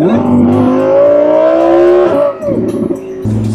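A 640-horsepower car engine revs hard and accelerates loudly for about two seconds with a rising tone, then drops back and picks up again, close and dominant.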